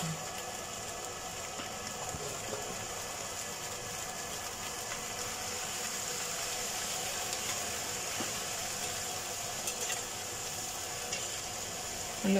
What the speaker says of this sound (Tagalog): Halo-haloin lang muna guys para hindi siya masunog